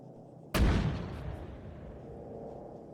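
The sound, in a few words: artillery gun firing in Arma video game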